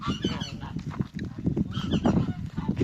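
Ducks honk and quack in a close, noisy cluster around a small swimming pool built for them on a farm in Cyprus, overlapping calls running steadily throughout.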